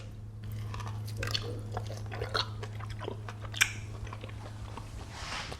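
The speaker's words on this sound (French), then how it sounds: "Et cette croûte caramélisée, écoutez ça." Close-up chewing of the caramelized seared crust of a Wagyu steak, with wet crunchy bites and smacking repeating steadily over a low background hum.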